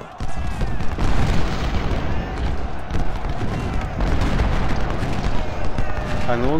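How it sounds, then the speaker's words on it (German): Cannon fire in the Civil War strategy game Ultimate General: Civil War at the Second Battle of Bull Run, a dense rolling stream of booms and crackling volleys that continues throughout. "Kanonenfeuer hier drauf."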